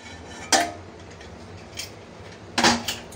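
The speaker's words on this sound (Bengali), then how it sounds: "ঢাকনাটা তুলে ফেললাম" A lid comes off a pot holding a cooled caramel steamed pudding: two sharp metallic clanks a couple of seconds apart, close and clear over a quiet room.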